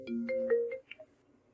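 A phone rings with an incoming call: a short, melodic ringtone phrase of a few bright tones that stops abruptly, played fairly quietly with no talking.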